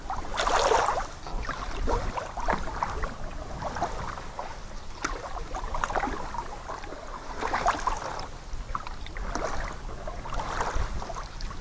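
Canoe paddling on Massawepie Lake, with soft, steady water swishes and drips from the strokes over a constant outdoor wash of wind and water, fairly close and moderately quiet.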